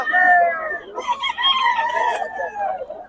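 Roosters crowing loudly over clucking chickens at a rural flea market in Bocaue, with several overlapping drawn-out crows close by and a voice talking faintly underneath.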